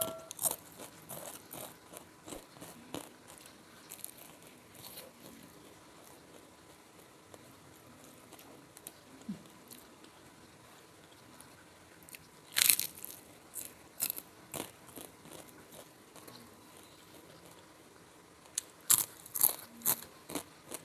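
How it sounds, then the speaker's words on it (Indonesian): Crunchy fried wonton wrapped around Indomie bolognese noodles being bitten and chewed close to the mic, a series of crisp crackling crunches with louder bites near the middle and end, otherwise quiet, no talking. "Garing, gurih, kriuk-kriuk, biasanya dalamnya juga mie-nya lembut."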